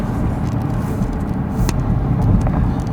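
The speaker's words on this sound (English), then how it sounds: "then we saw this ancient truck driving down the road" An old truck rolls along a road in a quiet New Mexico border town, its low engine rumble and tyre noise steady and fairly loud, swelling slightly as it draws nearer.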